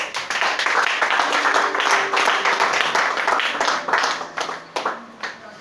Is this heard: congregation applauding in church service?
yes